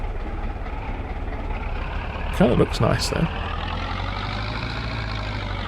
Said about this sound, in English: it's a nice little tractor